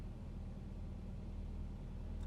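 A VW-group car with a repaired immobiliser runs on after starting, its engine holding a steady low idle rumble, close and continuous with no voices.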